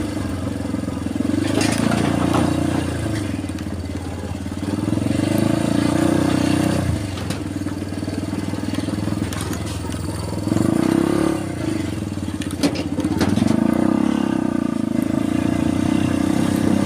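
A motorcycle rides across a steel-plated bridge on a rough alternative road under construction. The engine drones steadily and close by, with clattering and scraping bursts as the tyres pass over the plates, and no voices.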